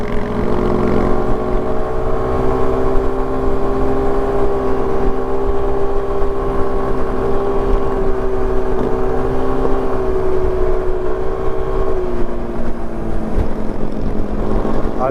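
A Suzuki Burgman 400 maxi scooter's steady engine drone with a sustained hum while cruising at highway speed, wind rush underneath, no voices, pitch dipping slightly toward the end.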